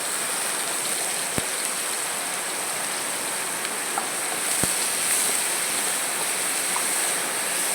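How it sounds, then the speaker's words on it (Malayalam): Heavy rain falls continuously in a steady, even hiss, moderately loud, with two sharp knocks breaking through briefly and no talking. "എന്തൊരു മഴയാണ് ഇത്"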